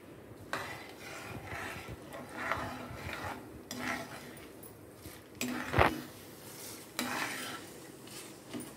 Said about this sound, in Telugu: మన పోపు దినుసులన్నీ వేసేస్తున్నాను.